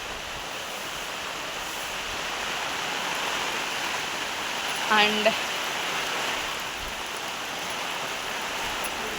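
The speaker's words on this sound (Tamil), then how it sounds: "பட் ஆனால் மழை, நல்ல மழை." Heavy rain pours down on a village, a steady dense hiss filling the whole stretch, with a brief voice speaking once midway.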